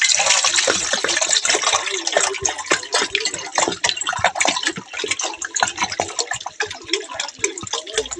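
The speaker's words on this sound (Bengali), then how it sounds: "কিছুটা জল ভরা হয়েছে আবার ঢেলে নিচ্ছে জলটা" Water is poured into several small bottles, producing a continuous close splashing and gurgling with drips as each bottle fills.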